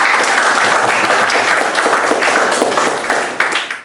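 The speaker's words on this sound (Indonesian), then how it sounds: "Tepuk tangan dulu." A classroom audience claps loudly and steadily after a group's poem recitation, a dense, continuous burst of applause lasting a few seconds before tapering off.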